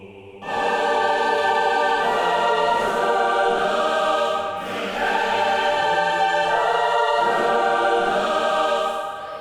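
A sampled virtual choir sings sustained, swelling chords from O Fortuna, rich and loud, shifting harmonies across several long held phrases.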